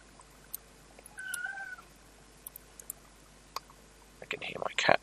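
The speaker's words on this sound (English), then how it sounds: "I can hear my cat meowing in the background there" A house cat meows a couple of times in the background, a faint drawn-out call against a quiet room, followed by some light clicking and rustling near the end.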